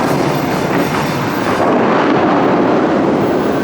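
An exploding water fountain show sends out a loud, continuous roaring rush of gushing water, with broad booming noise that holds steady throughout.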